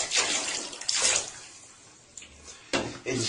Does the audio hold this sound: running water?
yes